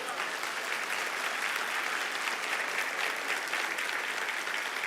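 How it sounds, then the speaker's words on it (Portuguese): A church congregation applauds, even sustained clapping from many hands filling the hall at a steady level from start to finish. "Você pode aplaudir o nome do Senhor Jesus?"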